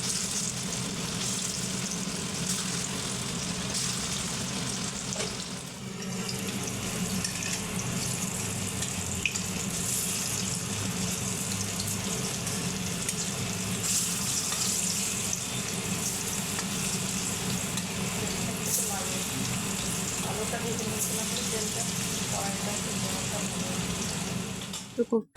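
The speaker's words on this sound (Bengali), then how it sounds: "এবার ওই একই তেলের মধ্যে আমি কোপ্তাগুলোকে ভেজে নেব।" Banana koftas frying in hot oil in the same pan used for potatoes make a continuous bubbling sizzle throughout, with occasional clinks and soft handling sounds and no speech.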